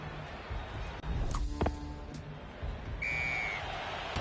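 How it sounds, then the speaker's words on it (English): A referee's whistle in a rugby match from the game Rugby 20: one short, clear whistle blast cutting through a steady crowd murmur, after a couple of dull thuds. "A blow of the whistle from the referee"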